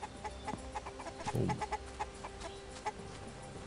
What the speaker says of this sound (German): Die Hühner sind auch noch da.